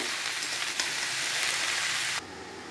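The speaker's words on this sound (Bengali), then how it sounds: "এবার আস্তে আস্তে নাড়বো, আলুগুলো একটু ভাজা ভাজা করে নেব।" Steady hissing sizzle of potatoes frying in hot oil, close and continuous, with a brief stirring scrape before the sound suddenly drops quieter.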